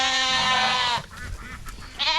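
Sheep bleating on a farm field at feeding time, one loud close wavering bleat followed by softer shuffling and a second bleat starting at the end.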